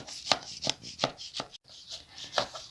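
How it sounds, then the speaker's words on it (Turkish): Knife slicing through uncooked baklava layered with butter into pieces, several crisp, crackly cuts in quick succession, close and fairly quiet. "Əzləyicilər, pəhlavamızı kəsirik."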